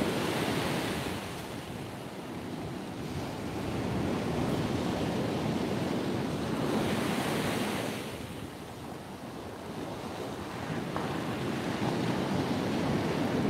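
Strong northerly wind and surf on Trimingham Beach during shore angling in 40 mph winds and rain, a loud broad roar of wind buffeting and breaking waves that swells and eases steadily without speech.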